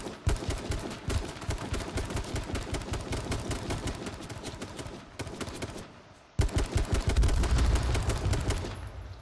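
Rapid bursts of automatic gunfire from a firefight in the video game H1Z1, dense repeated shots running almost continuously, with a brief lull before loud heavy firing resumes near the end.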